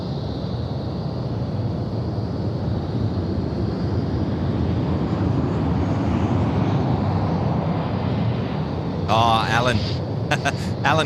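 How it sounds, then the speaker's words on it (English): A Velocity aircraft on the 883 service from Melbourne arrives on runway 16 right at Sydney Airport at night, its engine roar a loud, steady rumble heard alongside people talking nearby. "a Velocity aircraft about to join us here, runway 16 right"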